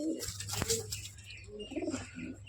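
A teddy pigeon coos close by in a loft, giving a few low, rounded coos with a sharp click between them and soft chirps in the background.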